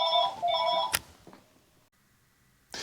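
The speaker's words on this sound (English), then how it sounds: "Let me get the phone." A telephone rings at a hi-fi audio show, a repeated electronic ring heard close and clear for about a second, followed by quieter room noise and a sharp clatter near the end.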